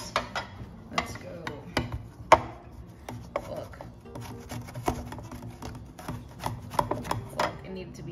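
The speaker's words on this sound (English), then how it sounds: "I'm going to use this thing to shred it so it's finely minced." Frozen ginger rubbed against a grater, giving a rapid series of rasping, ratchety scrapes in uneven bursts with sharp clicks, close and fairly quiet, with some faint talk in the background.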